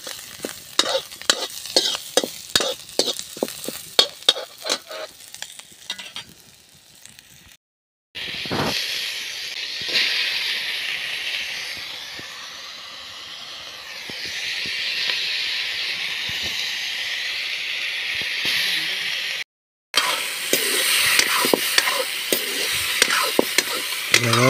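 Vegetable curry cooking in a little oil with salt, opening with rhythmic stirring scrapes and clicks, then a loud sustained hissing sizzle near the pan, followed by more vigorous stirring and sizzle.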